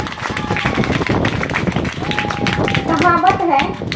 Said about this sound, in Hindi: तो आप एक बार अपने लिए ताली बजाएंगे।